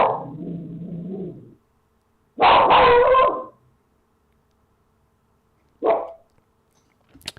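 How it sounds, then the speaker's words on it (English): A dog gives several separate barks picked up by a home security camera, one long and loud, others shorter, with quiet gaps between them and a little background rumble. "You can hear him barking."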